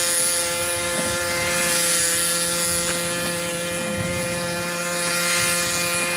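A model old-time plane with a jet engine mounted on a pipe flies with a steady, droning whine that holds for several seconds at an even, moderately distant level, with no voices.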